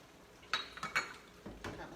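Pineapple pieces being stirred into pork cooking in a pan, with a few soft clinks of utensil against the pan, quiet and close, spread over the clip.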